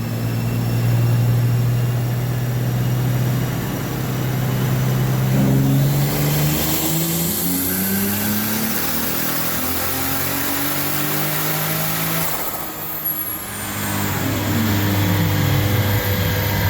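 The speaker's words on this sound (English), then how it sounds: "As you see in the clip, here's the turbo run." A Lexus IS300 with a turbocharged 2JZ-GTE engine revs on a dyno in a long, loud pull, its pitch sweeping upward in repeated climbs and dropping off between them, with no talk.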